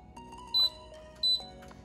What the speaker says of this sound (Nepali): हिट अन गर्ने,